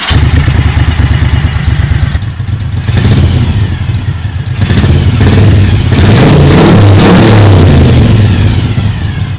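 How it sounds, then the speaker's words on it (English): Classic Moto Guzzi Le Mans V-twin motorcycle engine revving loudly up close, with throttle blips and rising, falling surges over a steady rumbling idle. "Let's get a sound check for that classic Guzzi engine."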